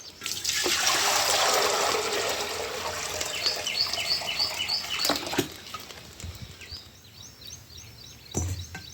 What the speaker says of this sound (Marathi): चुलीवर आता पाणी ठेवते.